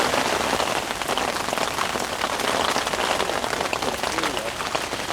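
Heavy rain falls outdoors as a dense, loud, steady patter across surfaces, continuous throughout with no pauses.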